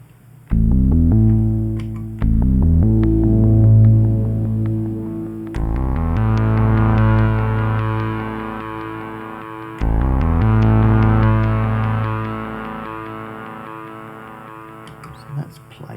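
Synthesizer played through a Boss RE-202 Space Echo on its plate reverb setting: three sustained chords with a low, heavy bass, each swelling in, then fading slowly into a smooth reverb tail, with no other sound.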